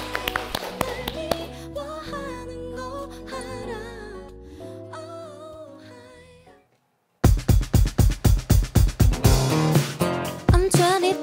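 Soft music fades into a brief silence, then hands clap a loud, steady rhythmic beat of about a dozen even claps, setting the tempo in a studio music show.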